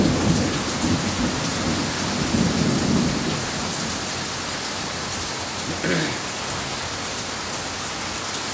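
A strong thunderstorm over central Oklahoma pours heavy, flooding rain onto a back patio in a dense, constant hiss, with a deep thunder rumble rolling through the first few seconds and fading into the steady downpour.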